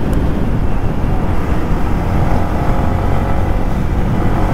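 Yamaha MT 15 V2 motorcycle engine running smoothly while riding at night, a steady loud drone with broadband wind rush, continuous and unbroken, no talking.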